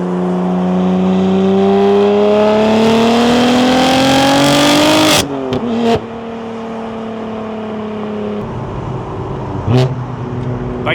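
A BMW M2 with a modified exhaust tuned to sound like a GTR revs loudly and close, pitch climbing steadily for about five seconds, then cutting off sharply before settling into a lower steady drone with brief pops.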